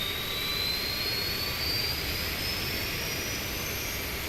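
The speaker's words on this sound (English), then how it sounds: "You can hear that APU spooling up." The auxiliary power unit on a CRJ regional jet spools up as a steady turbine roar. A thin high whine rises slowly in pitch across the few seconds, constant and close, with no talking.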